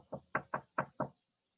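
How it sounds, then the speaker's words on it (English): Five quick knocks on a door, evenly spaced and fairly close, followed by silence. "That's him knocking on the door"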